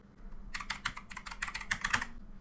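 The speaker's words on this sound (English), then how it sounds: "simply type the word incomplete." Someone types a word on a computer keyboard in the Windows 11 search box: a quick run of about a dozen crisp, close key clicks after a short quiet start.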